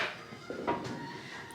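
A drawer in a hotel room slides and bumps shut with a couple of short wooden knocks over a soft room hum, close by.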